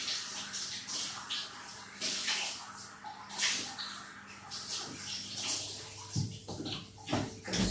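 Running water splashing and spraying in bursts while hair is washed at the roots, uneven gushes with faint background hum.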